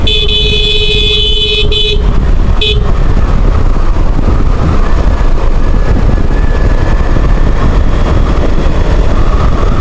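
Motorbike engine running steadily on a hill road, a loud continuous rumble with broadband wind and road noise throughout, while a brief high steady tone sounds near the start.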